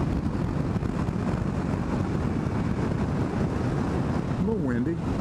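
Constant roaring wind buffets the microphone while riding a 2003 BMW 1200RS motorcycle, a thick, unbroken low rumble throughout, with a brief voice-like warble near the end.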